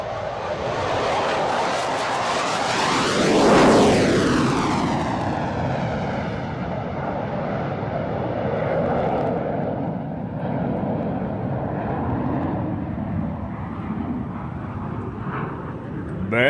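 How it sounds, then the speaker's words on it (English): A Canberra jet aircraft at the Waddington Air Show roars past in a loud flyby, its pitch sweeping down sharply as it passes and the rumble then fading into the distance. "we go back one more time to 2008 again at Waddington Air Show, and of course it's the Canberra."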